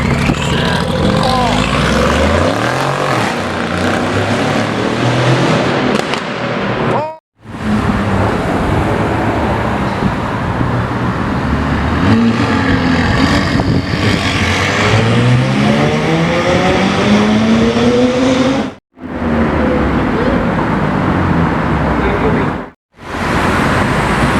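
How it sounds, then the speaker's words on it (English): A powerful Brabus G-Class SUV with an FI aftermarket exhaust revs hard and repeatedly, its loud exhaust roaring up and down close by, with brief cutoffs between bursts. "Brabus G with FI exhaust"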